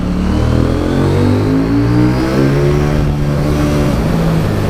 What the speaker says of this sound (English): Which I think is why it delivers such a delicious exhaust note.